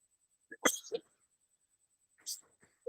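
Short bursts of coughing and throat clearing from a woman at a church prayer gathering, two clusters a little apart, close and fairly quiet, with a brief voice sound at the very end.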